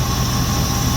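A 1971 Lincoln V8 idles steadily during idle-mixture adjustment after forty years of sitting dormant, a loud, close, even low rumble with no voices.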